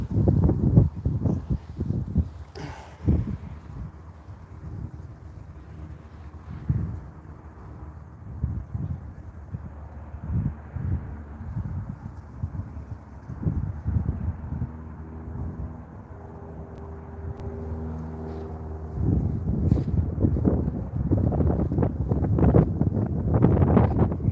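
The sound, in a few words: strong wind by the river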